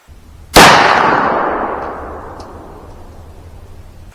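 A single loud, sharp gunshot from a 7.62x39 round cracks close by, then rings out in a long fading echo tail over several seconds.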